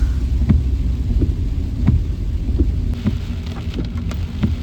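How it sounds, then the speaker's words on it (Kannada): Heavy rain falls on the forested Madikeri–Bhagamandala route in Coorg, Karnataka, making a close, continuous hiss over a low rumble with faint repeated thumps. No voices can be heard. "ಮಳೆ ಸ್ಟಾರ್ಟ್ ಆಗಿಬಿಡ್ತು ಫುಲ್ಲು."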